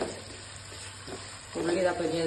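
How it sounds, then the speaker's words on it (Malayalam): Onions frying in a pan for a vermicelli biryani, a soft steady sizzle that swells louder and busier in the second half, with no talk over it. "അപ്പൊ ഉള്ളി ഇതാ പൊരിഞ്ഞ് വരുന്നുണ്ട്"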